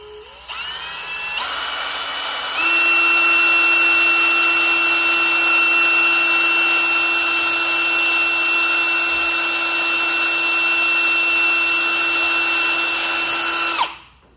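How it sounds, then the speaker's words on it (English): A power drill with a small bit whines at a steady high pitch for about twelve seconds while drilling a pilot hole in an electric scooter, spinning up quickly and then cutting off abruptly at the end. "So we'll get the drill with the small bit"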